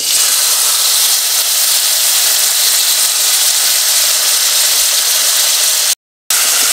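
Vegetables fry in olive oil with a loud, steady sizzling hiss that carries on without pause, broken only by a brief cut near the end.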